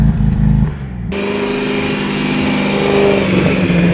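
A single-turbo BMW M3 CS engine revs hard up close, first a deep, loud rumble, then a sudden jump to a sustained, high, strained roar that holds steady, with no voices.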